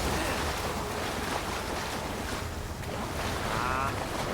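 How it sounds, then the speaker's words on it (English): Steady rushing water from a waterfall in the fantasy video game Avowed, a broad continuous wash of falling-water roar that holds evenly throughout with no voices over it. "Ooh, there's a waterfall."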